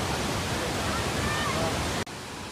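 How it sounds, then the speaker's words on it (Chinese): The Hukou waterfall on the Yellow River in Shanxi roars as a dense, loud, unbroken wash of falling water, briefly cut off near the end. "带大家看看壶口瀑布的壮观景色。"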